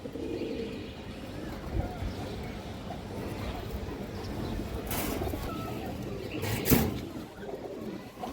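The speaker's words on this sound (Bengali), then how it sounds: "এই যে দেখেন কবুতরের জোড়াটা দেখেন দর্শক" A pair of pigeons cooing softly in a loft, low murmuring coos with a few brief bursts of noise, fairly faint and close.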